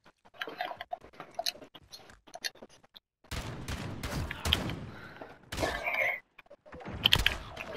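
Scattered video game shotgun blasts, sharp irregular bursts amid quieter clicks and handling noises, with several louder cracks in the second half and no voices.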